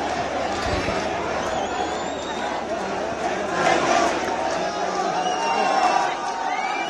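Angry protesters in Shimla, taking part in a dispute over a mosque, push against police barricades, and a crowd's loud rumble of shouting and chatter carries throughout, with surges of louder yelling and occasional whistles.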